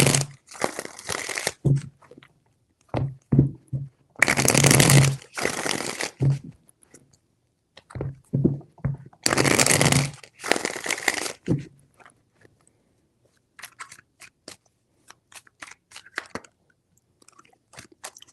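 Tarot cards are shuffled up close in several crisp riffling bursts separated by pauses, followed by softer scattered flicks and taps of the cards.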